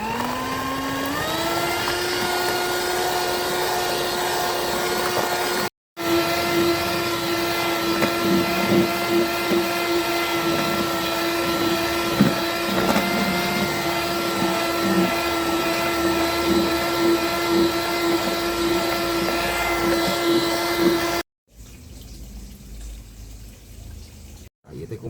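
An electric hand mixer whirs steadily while beating cake batter for an old-fashioned sponge cake, a loud continuous hum with slight pitch changes that cuts out briefly and then resumes, with talk faintly underneath.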